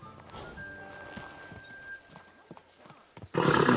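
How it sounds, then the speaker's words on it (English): Horse in the video game Kingdom Come: Deliverance II, with scattered hoof clops and a whinny, ending in a sudden loud burst of noise, no voices. "Easy, good horse. Good horse."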